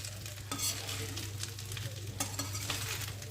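A pot of Bengali-style prawn pulao, slow-cooked under a lid, is stirred with a spoon that scrapes and knocks against the bottom over a continuous soft sizzle and a low steady hum.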